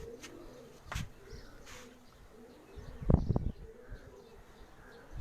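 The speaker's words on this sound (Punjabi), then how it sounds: "ਇਹ ਕਬੂਤਰ ਆ ਕੇ ਹੁਣ ਬੈਠਾ ਜੀ" A racing pigeon that has just returned and settled at its loft gives a couple of soft coos, with a brief louder burst of calling midway against quiet outdoor background.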